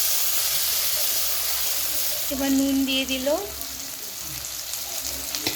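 Onion and tomato fry in a hot kadai with a constant close sizzle and hiss, while a voice speaks briefly partway through and stirring scrapes are heard near the end.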